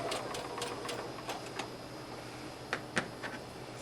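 A sewing machine stitches forward, stops, backs up in reverse and goes forward again, its soft continuous whir broken by a few sharp clicks.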